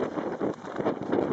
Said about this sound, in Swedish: Nu blåser det lite grann.